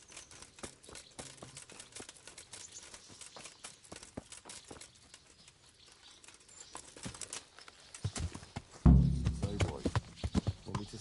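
Horse hooves clip-clop at a loose walking pace, faint at first and growing louder and closer toward the end, with speech in the mix.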